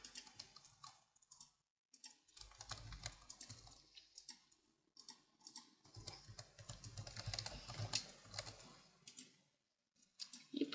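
Digits are typed into a payment form on a computer keyboard, quiet close clicking keystrokes in irregular bursts with brief pauses, no voices.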